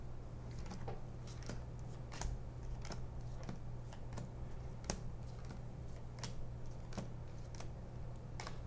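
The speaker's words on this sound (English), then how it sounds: "I'm going to deal out cards to each player." Playing cards dealt out one by one to each player at a game night, a run of soft, crisp flicks and snaps repeating at an uneven pace over a low steady hum, close and fairly quiet.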